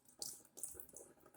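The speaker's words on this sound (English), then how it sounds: "I'm gonna begin by turning on the faucet." Warm water runs from a faucet into a sink during handwashing preparation, a soft, close splashing with uneven bursts as the flow is adjusted, quiet overall and with no talking.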